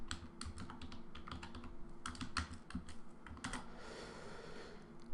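Steady, close-up typing on a computer keyboard, a quick irregular patter of crisp keystrokes with a faint low hum underneath and no speech.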